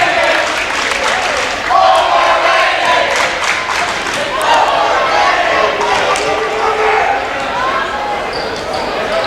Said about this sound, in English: The crowd's chanting overrated.